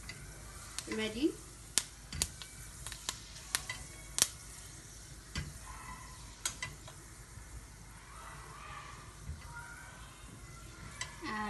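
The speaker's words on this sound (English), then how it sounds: "We are seasoning with a fenugreek seed" Fenugreek seeds sizzle in hot oil while a Nepalese masala is stirred, a steady frying crackle with sharp spoon clicks against the pan, and a voice speaks briefly over it.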